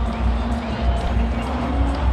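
A cricket stadium crowd at an India versus Sri Lanka T20 match cheers a wicket, a broad, steady roar of many distant voices with no pauses.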